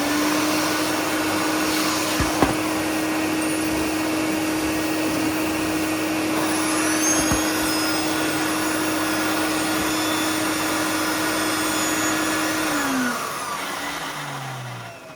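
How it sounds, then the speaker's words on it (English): Hoover Aquamaster vacuum cleaner fitted with an air-driven turbo brush, a loud steady motor whine running nearly continuously with a couple of brief knocks, then winding down at the end. "I'm going to use this turbo brush that I have"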